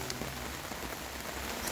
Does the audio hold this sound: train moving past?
no